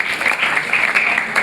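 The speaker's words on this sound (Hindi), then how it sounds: "इनके लिए जोरदार तालियां" Loud, sustained applause from a school classroom audience for a student being honored at a Haryana knowledge competition, a dense steady patter of many hands clapping with no talk over it.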